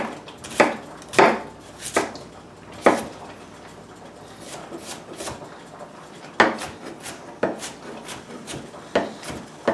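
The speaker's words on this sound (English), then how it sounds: "you might want to continue chopping and dicing" Knife chopping and dicing onion on a cutting board for lasagna, a run of sharp, irregular wooden taps at close range, some quick doubles and brief pauses between strokes, with no voices.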